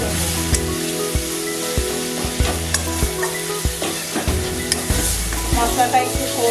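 Spice paste with salt, turmeric, cumin and chilli powder stir-fries in a pan for Bengali chicken curry: a continuous sizzle and frying hiss, with repeated scraping stirs and clinks of a spatula against the pot.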